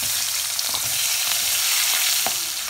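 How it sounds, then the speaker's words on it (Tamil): Small onions sautéing in hot oil with fenugreek seeds for a dried-fish curry, a dense continuous sizzle with faint stirring taps, close and steady, no talking. "சின்ன வெங்காயத்தை இப்போ நல்லா வதக்கிடலாம்."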